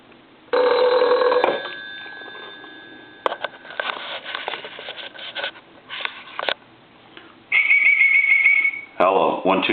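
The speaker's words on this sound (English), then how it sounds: "Go ahead and ring it." A reproduction Crosley wall telephone's bell rings in electronic trilling bursts, starting with a long ring followed by shorter ones, with handling noises and someone speaking between them.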